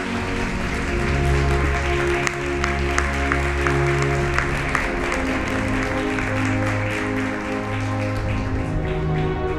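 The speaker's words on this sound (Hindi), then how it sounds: "क्या अब आप अपने यीशु मसीह के लिए जोरदार ताली बजा सकते हैं?" A church congregation claps loudly and steadily in dense applause. Sustained tones of music ring underneath throughout.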